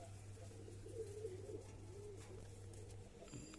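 White Patna pigeons cooing softly and repeatedly over a steady low hum, quiet and close, with no other voices.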